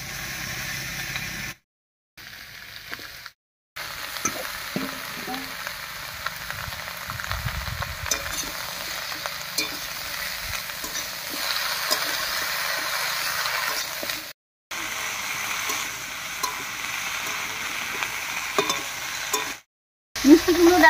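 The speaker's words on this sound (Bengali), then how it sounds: "এবারে কেটে রাখা মিষ্টি কুমড়ো ডাঁটাগুলো দেব।" Cut pumpkin stems and vegetables stir-fried in a spiced tempering give a continuous sizzle with repeated scraping stirs, close and moderately loud, interrupted by a few brief silent gaps.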